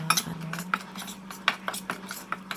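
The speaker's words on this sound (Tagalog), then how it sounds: "Hinaluan ko lang siya, halo-haloin lang ganito" Utensil clinks and scraping against a bowl while chicken pieces are mixed with cornstarch and all-purpose flour in a home kitchen, with irregular taps over a low steady hum and no talk.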